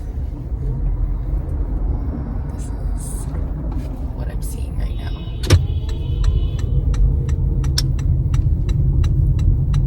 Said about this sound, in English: I just need to park my car.